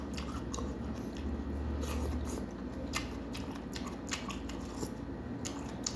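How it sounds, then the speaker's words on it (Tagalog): Raw onion bitten and chewed close to the mouth, eaten alongside tofu noodles: repeated crisp crunching bites in an uneven rhythm over a quiet background, with no speech. "Kainin natin sibuyas."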